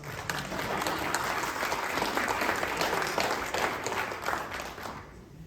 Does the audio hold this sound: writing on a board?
no